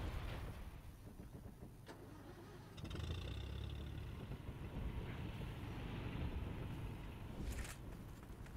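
A vehicle engine in the World War II shooter Heroes and Generals, a low rumbling drone that swells louder partway through as the vehicle draws closer, with wind noise around it.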